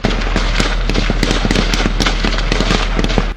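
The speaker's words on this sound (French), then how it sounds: "Souvent violents, des échanges de tirs qui peuvent durer plusieurs minutes et même des heures." Gunfire crackles during close combat in a counter-terrorism fight. Dense, sharp reports come in rapid irregular bursts, loud and sustained throughout, with no voices.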